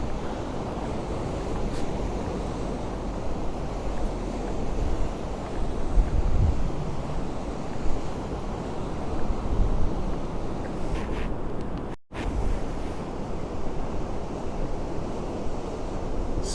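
Surf at Cala Ratjada on Mallorca rolls in continuously, a dense and fairly loud wash of breaking waves with wind buffeting the microphone, and no voices.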